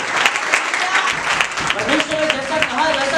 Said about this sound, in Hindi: ताली को बजाओ, स्तुति करो